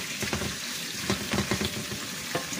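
Green bell pepper sizzles steadily in a hot pan for ackee and saltfish, with a dense frying hiss and scattered scraping stirs and clinks from a utensil at close range, and no voices.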